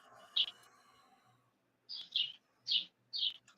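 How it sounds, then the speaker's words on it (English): Several birds chirp in short, bright bursts of high tweets, one early call then three more in quick succession, faint and picked up in the background over a gaming commentator's open microphone during a WWE Raw watch-along. "Who the fuck got birds?"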